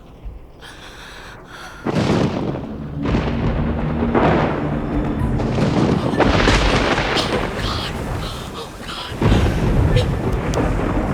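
Deep rolling thunder rumbles loud and close over steady heavy rain, swelling in long waves with a sharper crack near the end.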